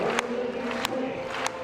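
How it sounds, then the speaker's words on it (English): A stadium crowd claps in rhythm for a T44 long jumper at the 2016 IPC Athletics European Championships in Grosseto, with three distant, evenly spaced claps over a constant murmur of crowd noise. "The athletes love to have the rhythmic hand clapping support of the crowd."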